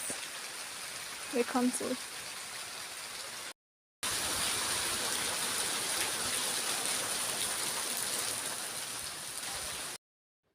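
Steady rain falls outdoors as a dense, even hiss that continues throughout, with a short burst of talk near the start.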